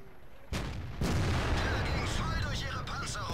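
A tank cannon fires in the video game Happy Battlefield Tank: two heavy booming blasts in quick succession, followed by a rumbling tail under game noise and a voice speaking.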